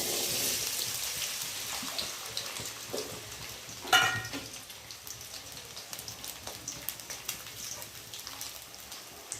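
Potatoes frying in oil in a pan give a soft, steady sizzle with a brief louder crackle and splash partway through, continuing quietly with scattered pops.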